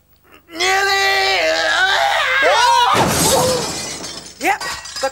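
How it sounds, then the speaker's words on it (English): A cartoon character knocks a ladder over and falls with a loud crash, and a long, rising shriek runs over the clattering impact. Brief vocal squeals follow as the noise dies away. "Yep, the crashing and the shrieking."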